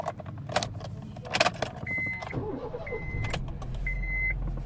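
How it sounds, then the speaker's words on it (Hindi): A Honda car, fitted with a newly programmed immobilizer key, shows a few key and switch clicks, a short electronic chime that repeats, then a steady engine idle rising under it, heard close inside the car. "अब दोनों कीज़ के साथ हम गाड़ी स्टार्ट करके चेक कर लेते हैं।"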